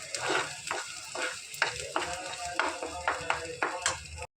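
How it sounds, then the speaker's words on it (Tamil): Ginger and garlic sauté for a chutney in a hot pan, a steady loud sizzle broken by quick rhythmic stirring scrapes, roughly eight strokes, before the sound cuts off abruptly. "நல்லா ஒரு வதக்குங்க"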